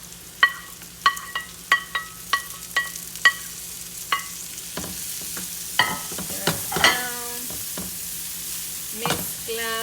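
Peas, carrots, onion, pepper and cilantro stirred in a pan for Peruvian arroz con pollo, sharp metallic spoon clinks and scrapes in an irregular rhythm over a soft continuous sizzle, close and clear with no talking.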